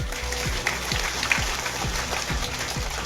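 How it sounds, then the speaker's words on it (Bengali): An audience at a school annual festival claps steadily for chairman Anil Kumar Tripathi, a dense, sustained round of applause with a few louder claps standing out. "আমি ওনার জন্য আবারও আপনাদের কাছে একটা জোরে হাততালি চেয়েছি।"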